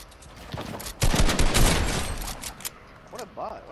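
Gunshots in a video game, a dense burst of loud shots near the middle followed by fainter scattered shots, with a voice speaking around them.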